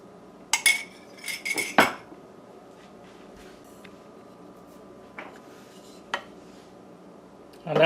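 Margarine being added to a mixing bowl with utensils, giving a few close clinks and scrapes of metal against the bowl early on, then quiet with a couple of isolated taps.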